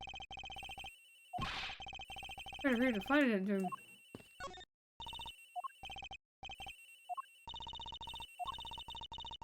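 A cell phone rings in the Ace Attorney Investigations video game, its repeating electronic melody chiming steadily throughout, briefly interrupted while a person speaks over it.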